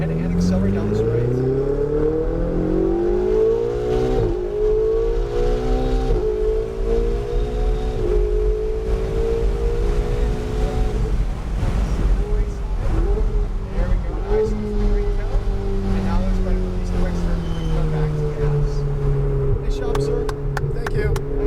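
A turbocharged Ferrari accelerates hard down a straight, its engine note climbing through rising revs in loud, continuous sweeps with brief shifts, while people talk over the roar.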